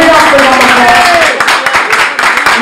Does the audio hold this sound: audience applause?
yes